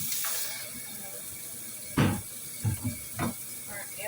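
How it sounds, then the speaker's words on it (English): An onion being rinsed under a running kitchen tap, with a soft steady water hiss and a few louder splashing bursts as it is turned in the stream, quiet and close. "Before you ask, yes, we are indeed going to wash this."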